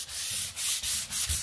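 Wood being sanded by hand for a floating shelf, a steady close scratchy rubbing in repeated back-and-forth strokes with brief pauses between passes.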